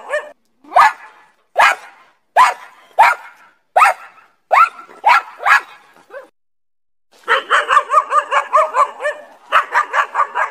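A dog barks in a steady series of sharp, close barks, then breaks into a faster, rapid burst of barking.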